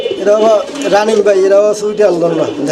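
A pair of pigeons coo in a seller's loft, with low rolling coos close by and mixed in with someone talking over them.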